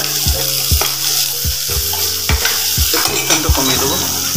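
Onions frying in a pan while being stirred, a continuous bright sizzle broken by sharp, irregular scrapes and knocks of the spoon against the pan, close and loud.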